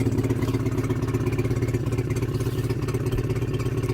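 A small outboard boat motor chugs steadily close by with a rapid, even pulsing rhythm, running alone without any voices.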